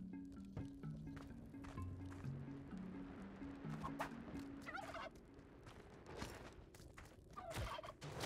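A turkey in Spelunky 2 lets out repeated gobbling calls in quick warbling bursts, fairly faint in the game mix, over clattering footsteps and scattered sharp game effects.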